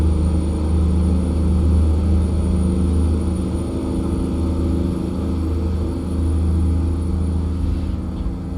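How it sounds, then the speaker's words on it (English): International truck engine in American Truck Simulator drones on as a steady, loud low rumble inside the cab, unbroken and even, with no talking over it. "I like this truck though, because it's not overly obnoxiously loud."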